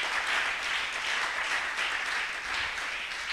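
A church congregation applauds with steady, dense clapping that fills the room and holds at an even level for a few seconds before a sharp bump at the end.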